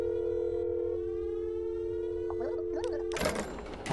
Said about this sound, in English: Why does the phone glitch out like that sometimes?